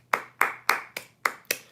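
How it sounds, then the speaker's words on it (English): A single person claps six times at an even, steady pace, each clap close and crisp, with nothing else around it. "round of applause for my viewers"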